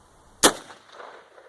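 A Mosin rifle fires a single gallery load: one sharp, loud crack with a short fading echo and no talking.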